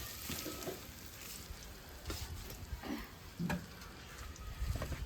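Fish frying in a pan until browned in a home kitchen, a soft continuous sizzle with occasional pops and light scraping from stirring, fairly quiet and steady.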